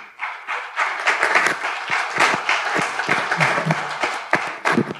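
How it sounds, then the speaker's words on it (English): Workshop participants at a mayors' gathering give a round of applause for a table's presentation, dense sustained clapping from a room of people, fairly loud and continuous with a few louder bursts. "Well, firstly, a big round of applause for Table 1."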